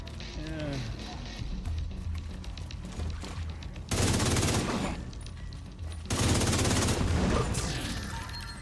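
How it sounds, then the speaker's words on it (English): Rapid gunfire and explosions rattle in an online video game, with long bursts of automatic fire and blasts, while a player's voice talks over them. "Explosions!"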